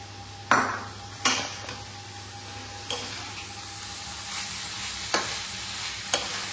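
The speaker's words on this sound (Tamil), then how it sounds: "இப்ப வந்து கேபேஜ் போட்டுடலாம். Next onion." Chicken shawarma filling with cabbage and onion stir-fried in a pan, a low continuous sizzle broken by sharp spatula clanks against the metal every second or so, close and without speech.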